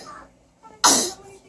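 A single sharp sneeze bursts out loudly after a brief quiet moment, with faint child sounds before it.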